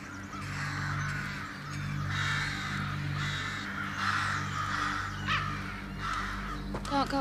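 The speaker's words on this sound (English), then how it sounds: "they begin to hear the sound of crows" Crows caw repeatedly in a steady series of harsh calls, moderately distant over a low rumbling background, with a quick flurry of sharper calls near the end.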